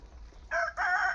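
Native village chickens on a country poultry farm, two short loud bursts of fowl calling in quick succession, close by and with no talk.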